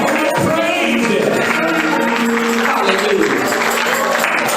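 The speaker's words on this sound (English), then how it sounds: "Come on, clap your hands and give God praise" Church congregation clapping hands in praise at a Church of God in Christ service, dense continuous applause under a loud, reverberant mix of voices and music, steady throughout.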